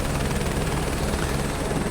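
Steady, loud rotor drone of a helicopter in Microsoft Flight Simulator 2024, flying over farmland in Chitwan National Park, Nepal, a continuous churning roar with no pauses.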